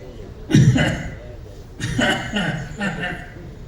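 A person coughs in a few rough, throaty bursts separated by short pauses, close and fairly loud.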